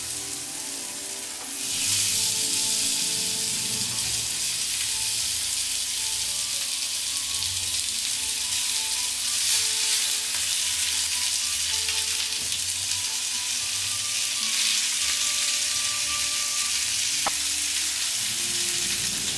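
Salmon steak sears loudly in an oil-free pan with onion, garlic, rosemary and olive oil, giving a steady close hiss and crackle that holds for the whole stretch with no talk.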